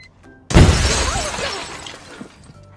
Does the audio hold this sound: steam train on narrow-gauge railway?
no